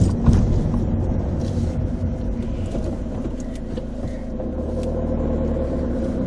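A car driving off along a road, heard from inside as a steady low engine rumble with road noise that stays close and fairly loud throughout.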